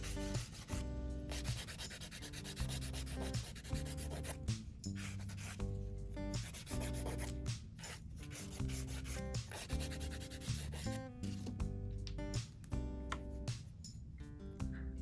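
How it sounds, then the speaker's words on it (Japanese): A file rubs rhythmically back and forth across the tip of a gel nail in close, dry, scratchy strokes. Brief pauses break up the strokes, and no one speaks. "最後はですね、削りで仕上げていきます"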